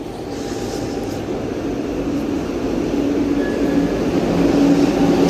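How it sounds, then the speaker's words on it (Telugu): The Nagavali Superfast Express, a train toward Visakhapatnam, rumbles steadily at a station, a continuous loud roar of wheels and carriages that builds slightly as it passes close by. "ఇది నాగావళి సూపర్ ఫాస్ట్ ట్రైన్."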